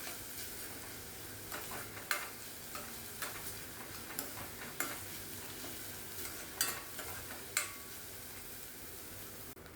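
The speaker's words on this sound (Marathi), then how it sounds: "अशा तऱ्हेने आपण हे कांदा व्हायला द्यायचा आहे, परतायचा आहे थोडासा" Chopped onion sautéing in hot oil in a pan for a prawn and potato curry, a steady sizzle broken by frequent sharp scrapes and taps of a spoon stirring, close and fairly quiet, with no talking.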